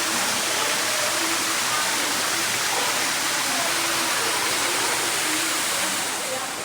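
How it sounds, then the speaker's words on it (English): Steady rushing water from an indoor waterfall at a mini golf course pours and splashes without a break, a full, hissing roar that fills the space from start to finish. "Have this really cool indoor waterfall with butterflies and all that up there."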